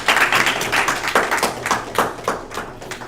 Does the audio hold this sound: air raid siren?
no